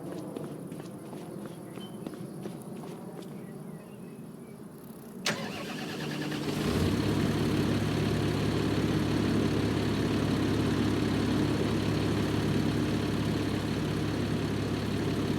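In the Farming Simulator 25 video game, a tractor engine cranks and catches after some footsteps and light ambience, then settles into a loud, steady idle that drones on without pause.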